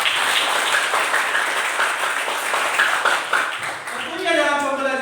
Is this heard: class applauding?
yes